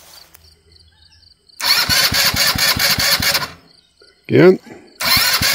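A junky go-kart engine cranks over in two bursts of rapid, rhythmic chugging as it tries to start without catching, with a brief voice speaking in the gap between them.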